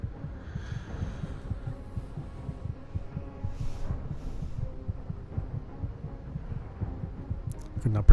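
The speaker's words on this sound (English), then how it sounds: "You just listen to that sound of a heartbeat." A low, rhythmic heartbeat thumps steadily for the length of the clip, the low-health warning in the video game The First Descendant, under a faint hum and game ambience with a brief louder burst at the end.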